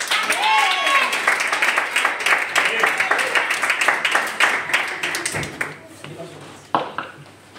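A congregation claps loudly during a church service, dense applause that gradually thins out and fades to a few scattered claps by the end, with voices mixed in.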